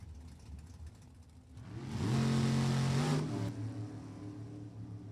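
Drag racing cars at the starting line at Lebanon Valley Dragway, a 2004 Cavalier and a 1963 Corvette, build from a low idle rumble into a loud, rising engine rev that holds for about a second and a half, then drops back to a steady growl.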